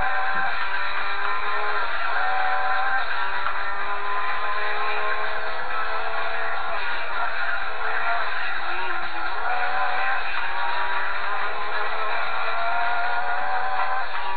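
Engine of a Nissan R32 Special racing in Gran Turismo 2, a steady, continuous drone with rising and falling pitch sweeps through gear changes, holding a constant level throughout with no talk.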